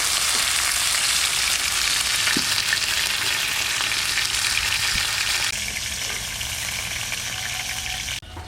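Pomfret fish frying lightly in hot oil gives a loud, steady, close sizzle that runs unbroken throughout, softening slightly toward the end.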